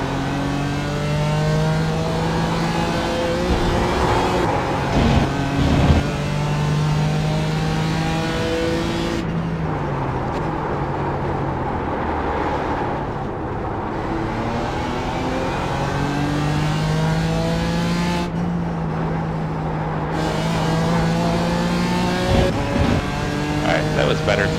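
A GT4 race car in the iRacing sim at Road Atlanta, its engine loud and close throughout, revving up through the gears and dropping on downshifts, with a voice talking over it.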